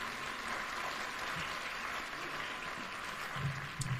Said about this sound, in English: Another warm applause for the CEO Kenya